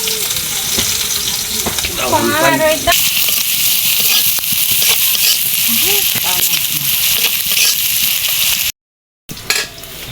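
Chopped onion and green chili hit hot oil in a pan used for frying fish, giving a steady close sizzle with some stirring and a short voice in the middle, then a brief gap of silence near the end.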